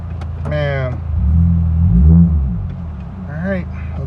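A Toyota Matrix XRS with a 2ZZ engine and C60 gearbox drives on a road test after an engine swap, its engine humming steadily up close and swelling as it revs, with brief squeaky sounds over the top.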